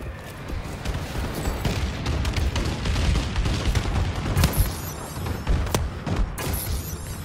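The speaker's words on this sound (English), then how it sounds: "Friendly bombing run clearing the way." Bombing run explosions in Call of Duty Advanced Warfare: a dense, continuous barrage of booms and gunfire crackle, with sharper blasts punching through near the end.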